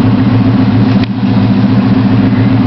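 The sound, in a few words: 1977 Chevrolet C10 engine idling on cold start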